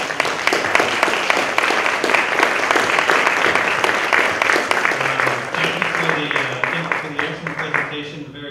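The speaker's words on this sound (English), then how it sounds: "Please join me in a round of applause for this." A conference audience at a Canadian Consulate sustainability event gives a round of applause, dense clapping at full strength for several seconds before thinning out, with a voice starting to speak near the end.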